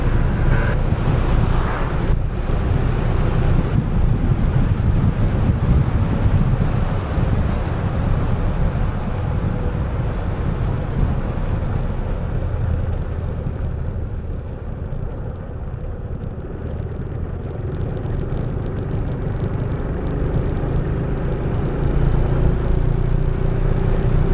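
A motorcycle ride recorded from a camera mounted on the bike, with steady engine rumble and heavy, continuous wind buffeting on the microphone throughout, loud and unbroken.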